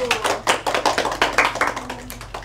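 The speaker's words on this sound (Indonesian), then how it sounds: "Beri tepuk tangan untuk kelompok 1." Students in a classroom clap for a presenting group, a quick uneven series of close hand claps with a sharp percussive snap, several overlapping at once over about two seconds.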